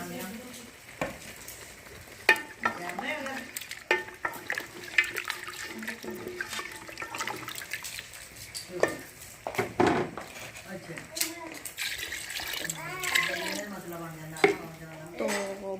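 Chicken panjay cooking in a pot after water is added to the browned meat, with a spoon stirring and scraping through it while a gentle sizzle and bubbling carry on beneath. Close and steady, with occasional clinks and a voice speaking at moments.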